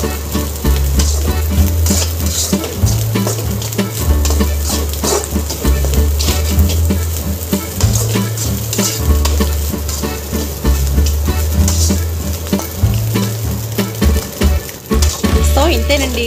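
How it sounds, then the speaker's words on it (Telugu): Egg fried rice stirred in a pan with coriander, a continuous sizzle with repeated scraping and tossing strokes, close and fairly loud, under a steady low background hum. "ఇప్పుడు కొద్దిగా కొత్తిమీర వేసుకుందాం, బాగా కలుపుకోవాలి"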